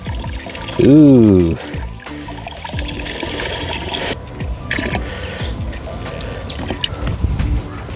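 Water is poured and rinsed out of a container into a garden sprayer tank while treating lawn fungus and weeds, giving a short loud gush followed by trickling and dribbling, with a brief voiced exclamation nearby.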